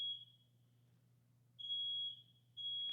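Piercing electronic beeps from a building fire alarm going off at 4 in the morning, repeating in long sustained bursts with gaps between them, over a steady low hum and no voices.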